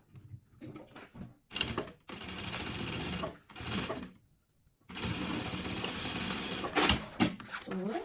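A sewing machine stitches the lining of a sublimated maternity kit in several bursts of fast, rattling mechanical whirring, separated by brief pauses and short clicks, close and alone.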